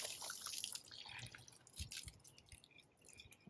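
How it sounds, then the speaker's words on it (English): Water draining out of a tray of pea sprouts grown indoors, heard as irregular close drips and small splashes trickling through, with no talk. "So I'm just going to let the water out"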